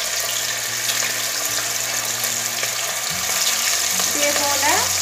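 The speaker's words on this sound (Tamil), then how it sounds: "இந்த சிக்கன் எல்லாத்தையும் நான் போட்டு ஃப்ரை பண்ணி எடுக்க போகிறேன்" Chicken pieces fry in hot, boiling oil with a loud, continuous sizzle and crackle, plus occasional stirring and clinks close up.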